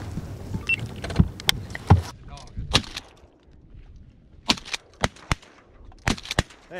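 Shotgun shots ring out on a Louisiana public-land layout hunt for canvasback ducks, a volley of sharp close bangs in two clusters with brief pauses between them.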